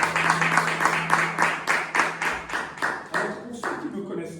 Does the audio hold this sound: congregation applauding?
yes